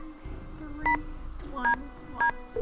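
Telephone keypad tones beep in the game Stay Tuned for Danger, three distinct dual-tone presses spaced about half a second apart over a quiet background hum.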